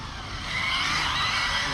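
A Hobao VT7 RC car skids under hard braking, a short close hiss of tyre scrub that builds and holds through the burst.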